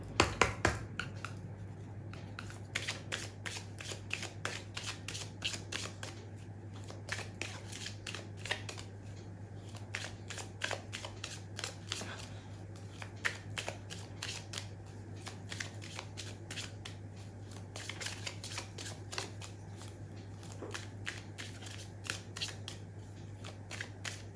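Tarot cards being shuffled for a reading, a long run of dense, crisp riffling snaps and flutters that keep going steadily at close range over a constant low hum, with no talking.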